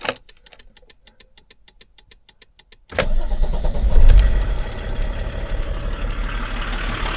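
A Volvo 740 with a D24TIC diesel engine goes through repeated ticking during preheat, then cranks and catches with a loud surge before settling into a rough, clattering diesel idle close by.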